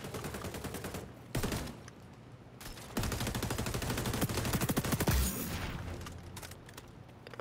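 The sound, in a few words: M4A1 rifle gunfire in XDefiant video game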